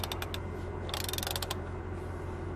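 A ratchet socket clicks rapidly while snugging down the new carbon steering wheel on a 2005 Mercedes-Benz E55 AMG, several quick bursts of close, crisp ratcheting with a louder run in the middle.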